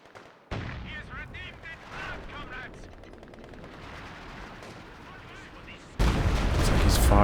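Artillery fire in Company of Heroes 2, with a light field howitzer firing amid dense battle noise and bursts of gunfire. Voices call out over the din, and the sound swells sharply into a loud, heavy blast near the end.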